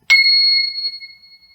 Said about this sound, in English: take, like this chime for instance, and I strike the bell with the mallet